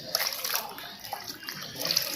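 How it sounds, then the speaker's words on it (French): Water sloshes and splashes close by as something is rinsed in a basin, with continuous irregular swishing and dripping. "Je vais mettre ça dans cette eau pour rincer l'eau."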